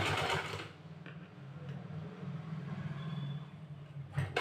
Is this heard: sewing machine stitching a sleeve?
yes